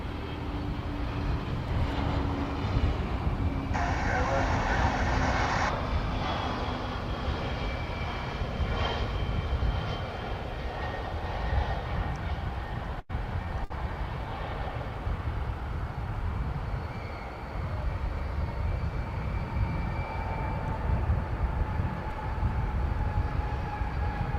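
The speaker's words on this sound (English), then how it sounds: "Here comes a UPS cargo flight. It's an A306 from Houston Intercontinental." A UPS Airbus A300-600 cargo jet arriving from Houston at DFW airport gives a steady, broad jet-engine roar from a distance, sustained throughout with no talking.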